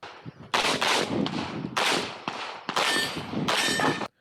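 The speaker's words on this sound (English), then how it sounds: "Called for a third shot, so I just sent it." Rapid series of loud gunshots at a USPSA practical shooting match at a gun club, several sharp bursts in quick succession with brief gaps, close and dominant with no talk.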